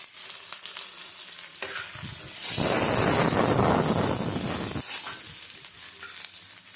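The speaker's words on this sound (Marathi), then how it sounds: "अगोदर मी कांदा भाजून घेते पूर्ण थोडंसं तेल टाकून पूर्ण व्यवस्थित भाजून घेते" Onion roasting in a little oil in a pan crackles steadily with a low hiss, then swells into a loud, dense sizzle for a couple of seconds before settling back to gentle frying.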